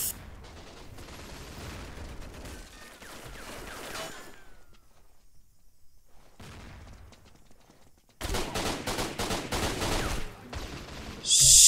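Automatic gunfire from the shooter game Line of Sight rattles in sustained bursts, fading into a short silence before a louder, denser volley returns near the end.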